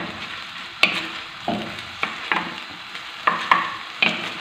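A chicken carcass fries in a pot with a soft steady sizzle, broken by a few sharp clacks and scrapes of a utensil stirring against the pot, close by and with no talking.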